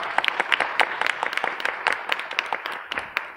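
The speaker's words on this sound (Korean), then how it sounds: "고생하시고 연출님께 박수 부탁드리겠습니다." A theatre audience at a post-show talk for the stage play Another Country claps for the director, producing a moderately loud, continuous patter of many hands with crisp individual claps throughout.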